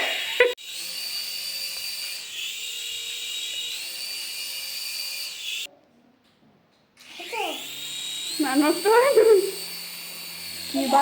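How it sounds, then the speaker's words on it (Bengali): A small toy helicopter motor whirs with a steady high-pitched whine, cuts out briefly, then spins up again while a voice chatters nearby. "আমি হেলিকপ্টার নিয়ে আসছি হেলিকপ্টার"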